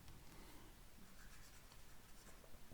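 Pen scratching faintly on paper while a measurement is written down, soft and close with no talking.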